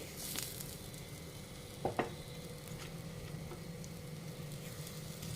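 Ponganalu, small fritters of dosa batter, frying in oil in a pan, giving a soft continuous sizzle with a couple of brief clicks of the pan as they are turned, close and quiet with no talk.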